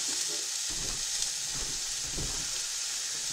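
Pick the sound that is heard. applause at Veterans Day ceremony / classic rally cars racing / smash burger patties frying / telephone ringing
smash burger patties frying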